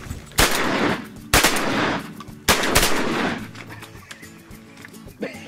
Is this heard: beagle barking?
no